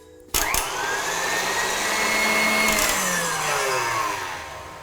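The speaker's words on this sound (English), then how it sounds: "Whisk for 5 to 10 minutes on high." An electric mixer starts abruptly and whirs steadily on high while whisking eggs, sugar and vanilla, its loud motor tone wavering and sliding in pitch, then easing slightly toward the end; no talking.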